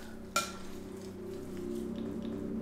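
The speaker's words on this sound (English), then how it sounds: "ooh, hear that sizzle?" Steak browns with salt and pepper in an Instant Pot, a soft steady frying hiss and quiet sizzle, with a brief clink of a utensil near the start.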